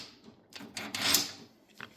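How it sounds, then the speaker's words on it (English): A masonry heater's cast bottom door swings shut with a short scraping clatter and a soft metallic thud, the fire roaring faintly inside the firebox, heard up close with no talk. "I'll shut down the bottom door."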